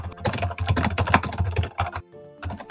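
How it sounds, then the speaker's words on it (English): Rapid, loud clatter of keys on a computer keyboard, close up and irregular, with a brief pause near the end before the tapping resumes. "Bis, what are you typing?"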